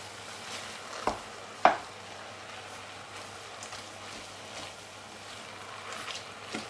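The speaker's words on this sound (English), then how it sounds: "Just mix them all in together, so the leek and the pork is all cooked, mixed up." Leek and pork are stirred together in a pan on a stove, a soft scraping sizzle with two sharp clinks near the start, then quieter steady mixing.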